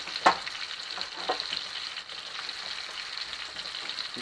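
Eggs frying in butter in a cast iron pan, with a steady close sizzle running throughout and a couple of soft spatula scrapes early on as they are stirred, and no voices.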